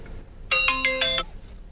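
A short electronic phone ring, a bright tonal burst lasting under a second against quiet background hum.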